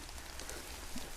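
Rain falls steadily on a garden during outdoor work, a soft, even hiss of drops with no voices.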